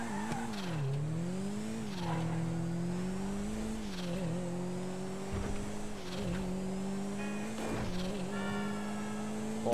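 Karin Futo drifting in GTA V Online, a steady engine drone holding a high rev with tire squeal rising and falling across the drift, loud and continuous throughout without talk.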